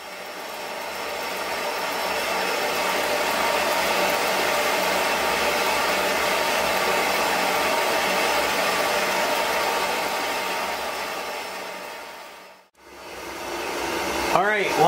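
A metal-cutting machine saws through steel stock for a homemade three-point drawbar trailer hitch, a steady loud whirring drone that runs continuously for most of the stretch, briefly cuts out near the end, then restarts.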